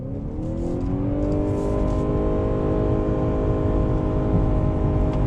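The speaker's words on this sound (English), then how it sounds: "you are getting loud RPM sound" A 2021 Honda Accord hybrid engine revs at full throttle, a loud, steady droning roar heard from inside the car, with the pitch climbing gradually as the RPM rises and holds, and no talking over it.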